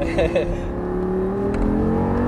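An Audi R8 accelerates on the Lyon race circuit, its engine note climbing steadily as a loud, close, continuous drone with a rising whine, while a voice speaks briefly over it.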